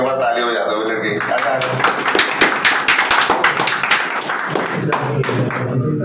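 A small group claps together for a newly selected CISF sub-inspector candidate, brisk close hand slaps running steadily for several seconds after a voice speaks at the start.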